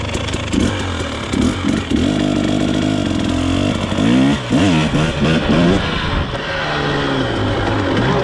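A 2019 Husqvarna TX300 two-stroke dirt bike with a Keihin carburetor revs hard and close, its engine snapping up and down in repeated quick bursts with no talking.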